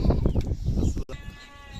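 Lambs bleating close by, several overlapping cries, then the sound cuts and quieter bleats and farmyard noise follow.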